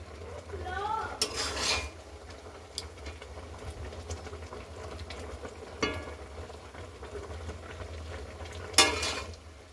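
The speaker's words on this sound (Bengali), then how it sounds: "মাঝে মাঝে একটু নাড়িয়ে দেবেন" Raw green mango preserve being stirred in a pan, with occasional spoon scrapes and knocks against the metal over a low simmering bed, including a few sharper clatters, with no voices.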